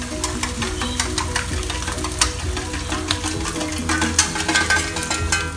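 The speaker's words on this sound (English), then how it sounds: "just let them pan fry here for a little while" Eggs frying in oil in a pan with crabmeat make a steady sizzle and crackle. Music plays over it the whole way through.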